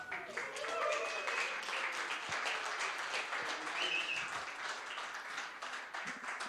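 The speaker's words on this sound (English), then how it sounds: "You may applaud now." Audience applause at a live Nerd Nite event in Tokyo, a sustained wash of many hands clapping at moderate loudness, with scattered cheers and voices in the crowd.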